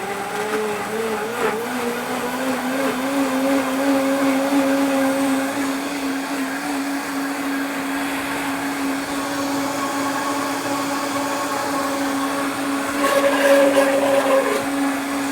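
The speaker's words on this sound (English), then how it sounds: "bag of celery that's about to go bad and a bag of carrots that are almost expired. I better blend that up so I don't waste it." A Vitamix blender whirs through celery and carrots with a loud, sustained motor whine whose pitch wavers and shifts as the vegetables break down, rising in intensity near the end, with no speech.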